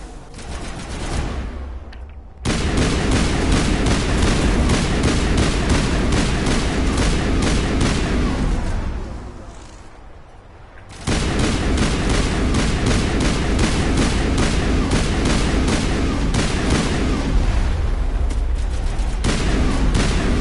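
Dense, loud battle noise from the Mass Effect 1 Legendary Edition game on Noveria: sustained gunfire and missile blasts. Two short lulls break the barrage before it surges back at full strength.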